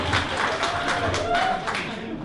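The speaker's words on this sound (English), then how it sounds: "I'll take a round of applause for that." A roomful of guests at a retirement evening claps in a dense, continuous round of applause, loud and close, with talk mixed in.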